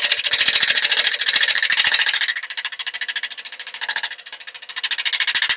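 A woodturning gouge cuts very hard lacewood on a lathe while shaping a cabriole candlestick, giving a loud, continuous chattering rasp with rapid rhythmic pulses that briefly ease in the middle before swelling again.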